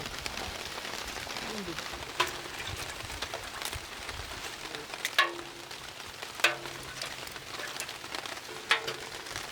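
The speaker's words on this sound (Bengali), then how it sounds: "এখন আমরা ডিমটা ভাজিয়ে নেব ডিমটা ভাজবো তো" An egg frying on a hot tawa after rotis, giving a soft, continuous crackling sizzle with a few light clinks of a utensil, faint voices murmuring in the background.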